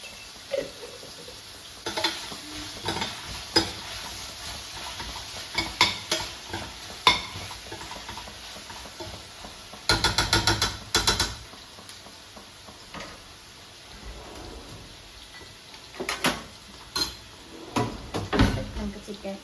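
Biryani masala sizzles softly in a pan while a spoon stirs and scrapes in irregular bursts, with occasional louder clatters of utensils against the pot; a voice talks at times over the cooking.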